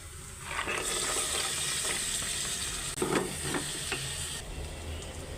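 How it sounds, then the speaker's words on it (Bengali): Washed potatoes and bean seeds added to spiced oil and stir-fried, a steady sizzle with scraping stirs and a burst of louder hissing midway. "এখানে ধুয়ে রাখা আলু আর সিমের বিচি দিয়ে দিব এখন"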